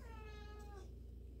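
One faint, short cat meow that trails off, leaving a low background hum.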